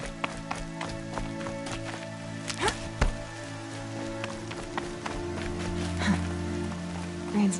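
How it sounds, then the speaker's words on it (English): Steady rain falls in the video game Horizon, a soft continuous patter with scattered louder drips and splashes, under low ambient tones and occasional footsteps. "Rain's not so bad."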